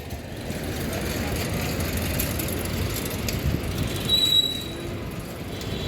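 A metro train rumbles past nearby with a low, continuous roar, and faint metallic wheel squeals ring out briefly toward the end.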